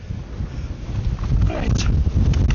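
Strong wind buffets the microphone in a wet, cold UK winter while wild camping, a low continuous roar rising in strength, with footsteps and rustling close by.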